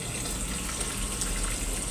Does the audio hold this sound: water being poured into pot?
yes